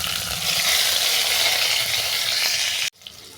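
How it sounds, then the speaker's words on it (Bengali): Onion and green chili paste hits hot oil for an egg basanti jhol. A loud, dense, steady sizzle holds close for nearly three seconds, then cuts off abruptly into quiet. "এই তেলের মধ্যে দিয়ে দিচ্ছি পেঁয়াজ আর কাঁচা লঙ্কা বাটা"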